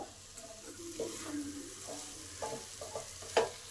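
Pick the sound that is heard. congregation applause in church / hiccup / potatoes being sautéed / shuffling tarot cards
potatoes being sautéed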